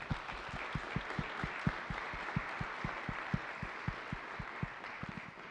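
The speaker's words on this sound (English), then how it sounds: "can we please give a big round of applause to our sponsors" Audience at a CubeSat developers workshop applauds the sponsors, a fairly quiet clapping crowd with a distinct rhythmic beat of low thumps pulsing under the steady patter of hands.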